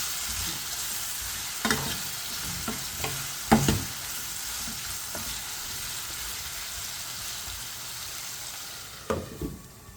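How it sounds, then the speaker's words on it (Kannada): Green tomatoes frying in oil in a pan give a steady, close sizzle, broken by a few sharp scraping knocks as they are stirred now and then. No one speaks. "ಚೆನ್ನಾಗಿ ಎಣ್ಣೆಯಲ್ಲಿ ಫ್ರೈ ಆಗ್ತಾಯಿದೆ"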